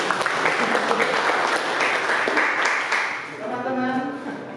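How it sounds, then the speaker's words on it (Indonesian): A classroom audience at a micro-teaching session claps together in steady applause for about three seconds before it fades and a voice speaks. "Tepuk tangan untuk Pak Lis."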